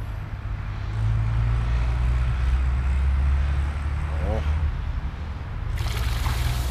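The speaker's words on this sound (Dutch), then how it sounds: "dan komt die eerste water van de waterval" Water trickles and splashes steadily from a newly built garden pond waterfall in Woerden, over a constant low rumble that persists throughout.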